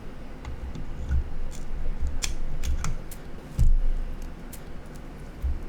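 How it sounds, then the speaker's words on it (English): Small clicking snips of cutters severing a little cable tie on the wiring loom of a ReVox A77 MKIV tape recorder, several sharp close ticks scattered over a low steady background hum. "This loom is attached with a little tie,"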